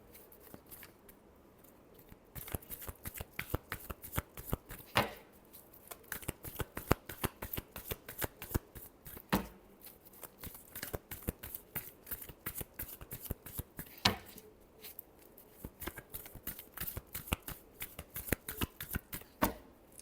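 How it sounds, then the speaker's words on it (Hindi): Tarot cards being shuffled by hand, a steady run of quick riffling flicks and soft slaps lasting throughout, close and fairly quiet with no talking. "Last shuffle."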